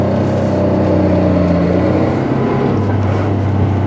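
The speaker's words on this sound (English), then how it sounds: "all the right sounds coming from that Alfa engine" An Alfa Romeo 164 L engine drones steadily, then its pitch climbs as the car accelerates, a loud, continuous rumble heard from close by.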